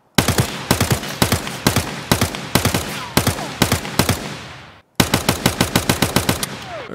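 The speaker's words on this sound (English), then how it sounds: "Let's take a look and see what happens when we fire in short bursts in fully auto." Automatic rifle in Escape From Tarkov fires several short full-auto bursts of three to five rapid, loud shots each, with brief gaps between bursts and a clean pause before the last ones.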